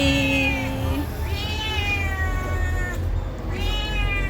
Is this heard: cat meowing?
yes